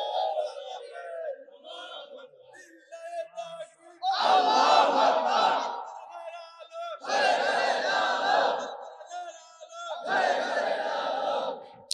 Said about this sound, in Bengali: স্লোগান তুলতে হবে।